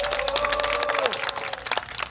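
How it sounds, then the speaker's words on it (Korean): An outdoor crowd at a construction workers' rally in Suwon Station's Rodeo Plaza claps for a performer, a steady patter of applause with a sustained tone lingering underneath. "김성광 분께 다시 한번 힘찬 박수 보내주시기 바랍니다"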